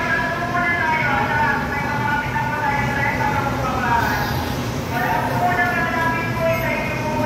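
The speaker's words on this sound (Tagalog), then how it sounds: "Hintayin munang makahinto yung train bago lumapit." A commuter train pulls into a station, a loud steady rumble with rising and falling squealing tones of wheels and brakes as it slows, while people talk on the crowded platform.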